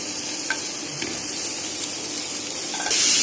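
Sautéed moong sprouts stir-fried in a pan, giving a steady close sizzle with a few light scrapes and a louder burst of sizzling at the end.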